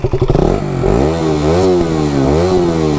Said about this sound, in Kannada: ಸೊ ಇದು ಎಕ್ಸಾಸ್ಟ್ ನೋಟ್ ನೋಡ್ಬೋದು